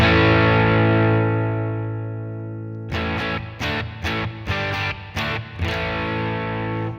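Electric guitar played through a Headrush pedalboard with the volume pedal's minimum set to 30%, giving distorted, effects-heavy sustained chords, then a run of rhythmic strummed hits, loud and close with no talk.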